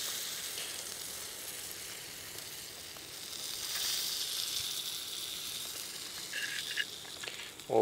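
Meat sizzling on a hot clay plate just taken off a campfire, a soft, steady hiss that swells slightly midway, faint and close, with a brief knock at the end.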